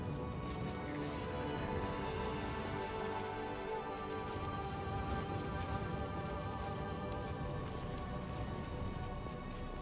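Steady rain patters across a surface in Pathfinder: Wrath of the Righteous, a soft, even downpour that continues without break and stays alone with no voices.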